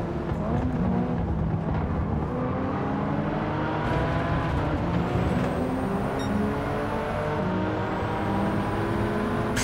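An Alpine car races in Gran Turismo 7, its engine a continuous loud drone with rising and falling harmonic whine as it shifts through gears, steady throughout with no voices heard.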